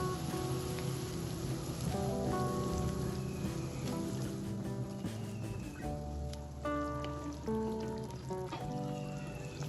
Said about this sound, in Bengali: ঝোলটা ফুটতে শুরু করেছে, এবার আমি এর মধ্যে ভেজে রাখা বড়াগুলো দিয়ে দেব।